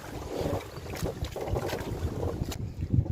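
Steady gusting wind buffets the microphone outdoors on a squid-fishing boat at sea between Negros and Cebu, with low rumbling and a faint watery wash underneath.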